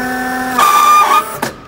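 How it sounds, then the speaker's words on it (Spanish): A stand-up forklift's loud electric horn sounds once for about half a second, a bright steady tone over a hum of machinery, followed by a brief click. "Está aquí, es el claxon, es el donde tiene la trompetita."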